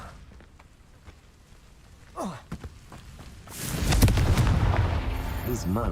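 Confringo spell blasts in Hogwarts Legacy: a few sharp thuds and whooshes early on, then a loud sustained burst of explosive rumble and crackling in the second half, with brief voice sounds over it.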